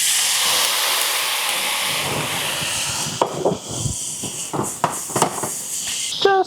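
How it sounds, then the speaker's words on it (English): Food searing in a hot pan after charring, a steady loud hiss that thins out into crackles and sharp pops, with a few clatters near the end. "Get those seared up again."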